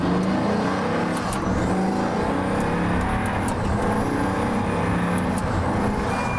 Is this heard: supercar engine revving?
yes